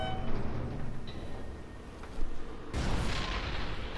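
Explosions in the video game inFAMOUS Second Son, a couple of booming blasts with a louder crash near the end, moderately distant and without talk.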